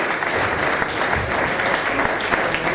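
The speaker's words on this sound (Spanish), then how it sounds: "Dale un fuerte aplauso a nuestro Señor que vive y reina." A church congregation gives the Lord a loud round of applause during a service, a dense, steady wash of clapping that carries on without a break.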